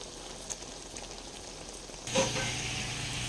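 Coconut milk for malunggay ginataan frying and simmering in a pan, starting as a soft crackling sizzle and swelling after about two seconds into a steady, louder bubbling hiss that continues to the end.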